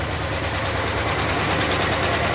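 A 1968 Chevy Caprice engine idles steadily just after starting, a loud, close, continuous rumble with a slight uneven miss.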